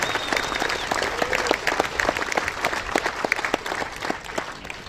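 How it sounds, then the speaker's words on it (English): A crowd at the closing ceremony of the U12 football nationals in Melbourne gives the referees a big round of applause: dense, steady clapping from many hands, fairly close and sustained throughout with no talk. "We're pleased to give our referees a really big round of applause."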